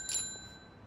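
A bicycle bell in the video game Yakuza: Like a Dragon gives one bright ding that rings on with a clear metallic tail and fades out over quiet background hum.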